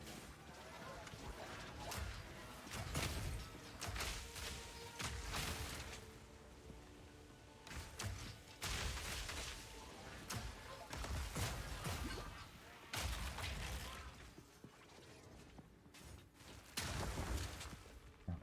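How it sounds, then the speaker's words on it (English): Bursts of explosions and blasts from grenade-style attacks in Path of Exile 2 action gameplay, heavy repeated booms and crashes coming in clusters across the clip, with a voice talking over the combat. "Love the explosions."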